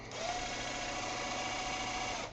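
A power drill spins a small paint bottle with a mixing ball jammed inside, giving one steady high whirring drone that runs unbroken for a couple of seconds, close and fairly loud.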